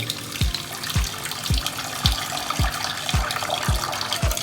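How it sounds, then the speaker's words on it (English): Running tap water splashes steadily into a sink as salt fish is washed for a Jamaican dish, with a regular series of low thumps roughly every half second beneath the broadband rush. "Get the saltfish washed off the proper way."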